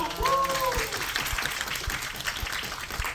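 Audience at a musical's curtain-call stage greeting claps in congratulation, a dense even wash of hands at close range, with a brief whistle or cheer at the start and voices faintly underneath.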